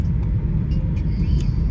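Steady low rumble inside a moving car, a constant road and engine drone with no talking.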